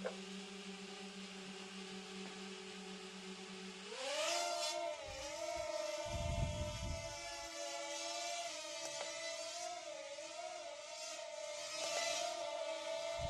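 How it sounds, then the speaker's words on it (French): Hubsan H107P micro quadcopter motors spooling up from a low idle whine to a higher, wavering electric whir, with pitch shifts as the sticks are moved; fairly quiet and close, no talking. "Pour lancer les moteurs, centrez les deux manettes."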